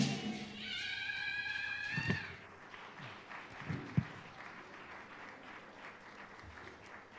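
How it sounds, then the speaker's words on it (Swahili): An audience claps in a steady, moderately distant round of applause, with a sung or drawn-out tone early on and a few louder thumps among the clapping. "Jamani, makofi hayatoshi. Naomba tuongeze makofi."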